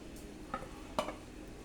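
Half-cooked eggs being stirred into butter and garlic in a pan with the stove switched off: two soft scraping strokes over a faint background sizzle, close and quiet.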